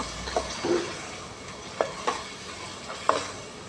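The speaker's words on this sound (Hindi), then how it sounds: "मिक्स करेंगे अच्छे तरीके से" Green lobia beans stirred into a masala in a pan with a spoon, soft sizzling under a few distinct scrapes and knocks spaced out over a few seconds, with no voices.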